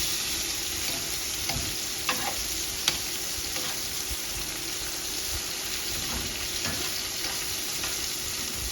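Meat browns in a pot for pot roast, giving a steady, loud sizzle like light rain, with a few scattered taps and scrapes from turning the pieces.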